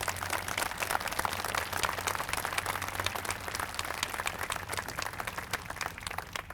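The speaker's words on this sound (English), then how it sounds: "we should give him another round of applause" Crowd applause at an outdoor Veterans Day ceremony, many individual claps sounding fairly distant and steady for several seconds without speech.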